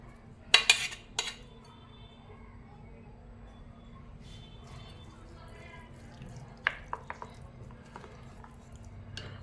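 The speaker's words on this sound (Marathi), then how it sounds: "आता हे जे मिश्रण आहे ते आपण बॅटरमध्ये घालणार आहोत त्याच्यानंतर व्यवस्थित हलवून घ्यायचं आहे" A spoon clinks and scrapes against a bowl while a mixture is stirred into dosa batter, with a few sharp knocks early and soft wet squishing and scattered taps later, fairly quiet and close.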